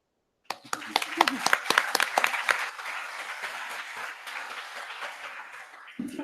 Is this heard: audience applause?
yes